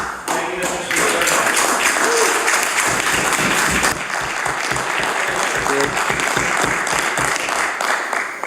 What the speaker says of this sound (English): It's nice to hear that much more numerous applause on this side of the House